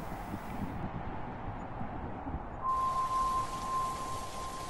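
Steady rain falling at night in a video game, a constant wash of drops that swells slightly louder midway, with a faint thin tone appearing in the background.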